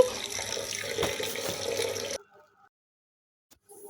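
Soaked chana dal is rinsed under a running kitchen tap, water gushing steadily for about two seconds before cutting off, followed by near silence and a few faint drips.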